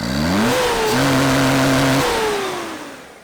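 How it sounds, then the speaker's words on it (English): A car engine revs hard for a burnout, a loud, close, droning roar whose pitch climbs, holds steady against a limiter for about a second, then slowly falls away. "So I think it is time for a burnout."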